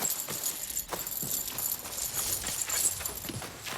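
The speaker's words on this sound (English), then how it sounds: "Why does the horse always go, like, on rocks?" A horse's hooves clip-clopping in Assassin's Creed Shadows, a quick, fairly regular run of hoof strikes, as if on rocky ground, over a soft steady game ambience, with no talk.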